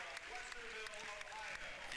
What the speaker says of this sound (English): Jason Davis getting a round of applause here from this crowd at the Reich Center